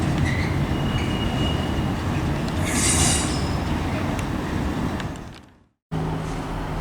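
A train moves through Perth station in Scotland with a loud rolling rumble of wheels on rails and high wheel squeal, close by and continuous, before the sound cuts out briefly near the end.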